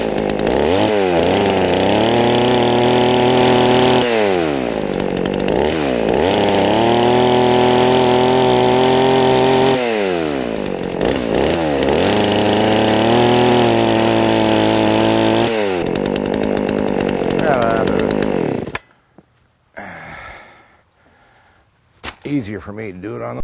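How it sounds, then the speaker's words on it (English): A chainsaw roars steadily and loudly, its pitch dipping and climbing repeatedly as it knocks the corners off a log, then cuts off near the end, leaving quiet. "Pretty much just going to knock the corners off here with the chainsaw."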